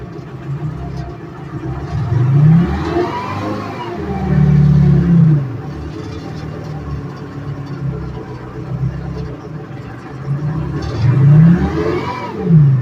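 A Detroit Diesel 4-53 engine revs up slowly and hesitantly in repeated swells, then sinks back toward a rough idle, loud and close, running alone without talk.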